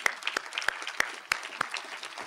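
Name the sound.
audience applause for Bridgett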